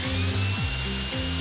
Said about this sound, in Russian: Включаю пилу.